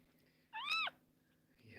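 A small yellow kitten lets out one short, shrill meow while being picked up, close but brief, followed by faint rustling.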